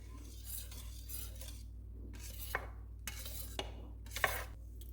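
A spoon stirs through mango ice candy mixture, giving soft swishing sweeps with a few faint clinks against the bowl, quiet and close over a low steady hum.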